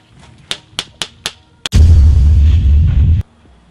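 An airsoft gun fires four or five sharp, separate single shots at close range, followed by a loud, sustained rumbling blast of about a second and a half that stops abruptly.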